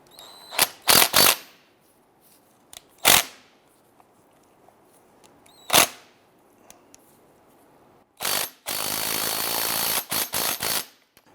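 A clamp on a tie rod of a 1999-2004 Jeep Grand Cherokee gets tightened, heard as a few sharp metallic clicks and ratchet strokes, then a longer run of rapid ratcheting near the end, close and alone.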